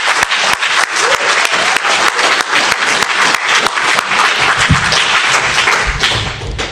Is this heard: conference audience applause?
yes